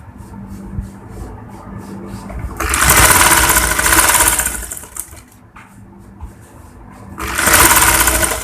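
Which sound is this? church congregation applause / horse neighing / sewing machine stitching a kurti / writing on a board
sewing machine stitching a kurti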